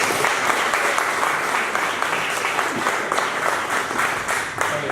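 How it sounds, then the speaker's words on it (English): A crowd applauds steadily, a dense wash of many hands clapping at an even loudness throughout. "Let's just get a round of applause."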